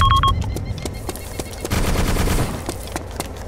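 Gunfire in the military video game Arma II: bursts of machine-gun fire and scattered shots crack close and loud, with dense rattling volleys and a brief electronic tone at the start.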